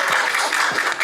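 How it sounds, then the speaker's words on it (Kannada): A studio audience on a Bigg Boss Kannada reality TV stage claps in a brief, dense burst of applause. "ಒಂದು ಚಪ್ಪಾಳೆ ತಟ್ಟೆ."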